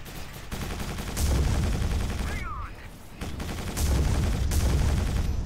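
Enemy gunfire in the Quake 4 video game, repeated rapid bursts of shooting and heavy impacts over a rumbling background, with a brief lull midway before the firing resumes.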